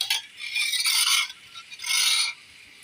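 Potatoes being mixed by hand in a bowl before frying, giving three bursts of bright rubbing and squelching, each lasting about half a second, with quiet gaps between them. The sound is close and has no voices over it.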